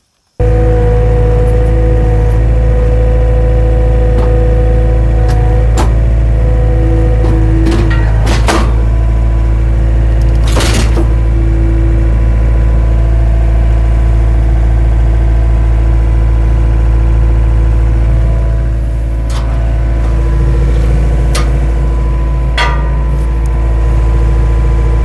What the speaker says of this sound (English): Let's get the skid steer.